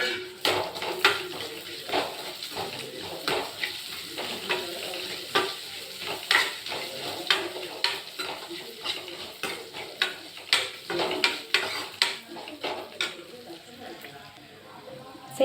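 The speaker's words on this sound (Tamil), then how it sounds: "சேமியா நல்லா வறுத்துட்டுச்சு." Vermicelli roasting in a pan with cashews and raisins, with a quick run of sharp spoon scrapes and clinks against the metal over a soft, continuous sizzle.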